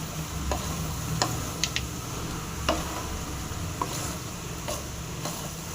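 Amla pickle being mixed with salt, chilli and tamarind in a pot, soft steady background hiss with a few light scrapes and ticks of a spoon against the vessel, quiet and without voices.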